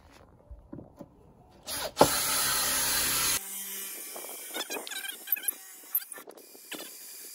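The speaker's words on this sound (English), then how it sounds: "So first of all we'll drill a hole." A power drill bores a hole in a wooden shelf for a gecko rack, a short steady whirring burst of a few seconds preceded and followed by faint handling clicks and knocks.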